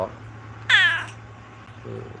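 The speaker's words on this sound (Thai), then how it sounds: "ใช่น้องแมว" A cat gives one clear, fairly loud meow partway through, followed by a fainter second cry near the end, over a steady low hum.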